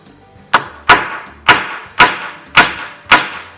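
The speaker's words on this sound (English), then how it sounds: "So now I'm going to peen the end of it, and I find I use the flat end first" A hammer peens a rivet on a handmade chainsaw chain for a Stihl MS250. Six sharp metallic taps land about half a second apart, close and distinct.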